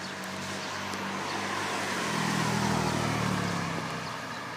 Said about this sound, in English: there's a car which has passed to my left